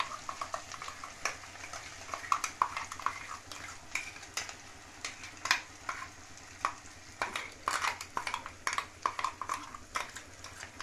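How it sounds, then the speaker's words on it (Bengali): A spoon stirs almond paste into a cauliflower rezala curry in a pan over low flame. The utensil scrapes and taps softly in irregular strokes over a quiet sizzle. "বাদামের পেস্টটা এর মধ্যে দিয়ে দিলাম, এরপরে ভালো করে নেড়ে নেব।"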